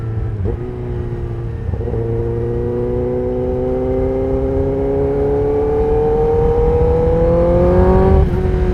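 A Kawasaki ZX10R motorcycle fitted with a Leo Vince exhaust is run up through the gears, each loud, close engine note climbing steadily in pitch, with brief shifts between sustained pulls and no talking.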